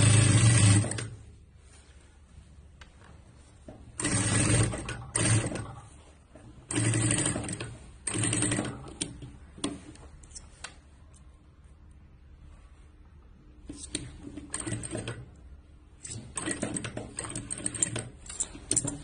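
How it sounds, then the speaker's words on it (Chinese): A sewing machine stitching a double line of topstitching on a sailor-style sweatshirt collar, heard as close bursts of rapid mechanical clatter with pauses between runs and no talk. "我们来压下线啊，压个双线就可以了"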